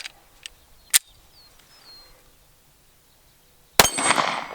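Sig Sauer P320 X Compact pistol shots ringing off steel targets outdoors, sharp isolated reports with metallic clangs, a pause, then a loud shot followed by a longer ringing decay.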